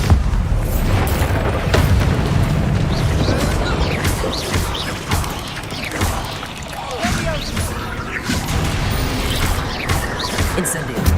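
Bombarda explosion spells in Hogwarts Legacy boom and crash repeatedly over a loud, continuous din of combat, with heavy low-end blasts and scattered impacts running throughout.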